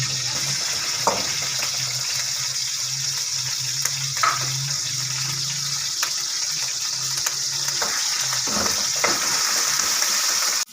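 Chicken frying in a pan with ginger garlic paste, a steady hissing sizzle running throughout with a few faint clinks of stirring, no voices.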